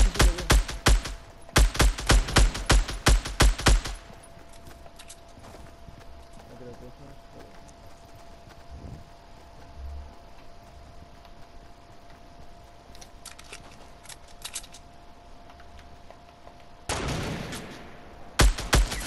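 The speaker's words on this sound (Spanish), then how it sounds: "Disparos aquí abajo, aquí abajo." Bursts of rapid gunfire in Fortnite crackle at the start and again near the end, with quieter stretches and faint scattered sounds between them.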